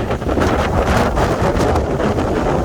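Strong wind gusts ahead of an approaching thunderstorm front at a dock, buffeting the microphone in loud rumbling bursts with water lapping underneath.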